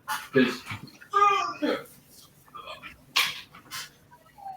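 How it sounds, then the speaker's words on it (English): A dog whimpers and yips in short, high whining bursts close by, with a person speaking softly between the sounds. "That's my dog, Dimebag Darrell."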